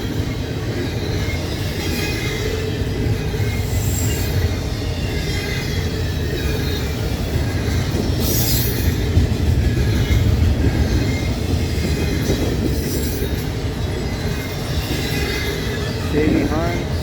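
An intermodal freight train with stacked containers rolls steadily past at close range for the whole stretch, a continuous loud rumble of wheels and cars with faint talk mixed in.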